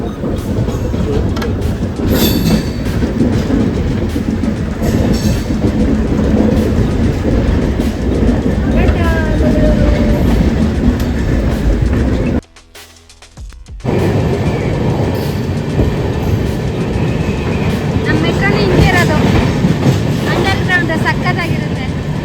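A passenger train pulls out of Mangalore railway station with continuous loud rumbling and wheel clatter, dropping out for a moment midway before the steady rolling noise resumes.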